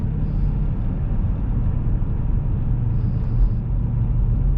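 A car engine revs with a Pedal Commander throttle controller fitted, giving a steady loud low rumble as the RPMs climb, heard from inside the cabin with no talk.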